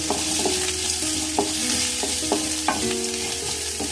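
Onions sizzle and fry in a pan while sautéing for a South Indian beetroot stir-fry, with a steady crackling hiss and a few sharp clinks of a utensil stirring against the metal.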